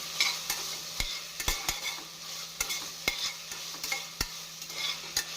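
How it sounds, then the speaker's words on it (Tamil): Tomatoes for a chicken biryani sautéing in a pan, with a spoon scraping and stirring in sharp, repeated strokes about every half second over a steady low sizzle; no talking. "தக்காளி பழம் போட்டு நாம் ஒரு நிமிடம் நன்றாக வதக்க வேண்டும்"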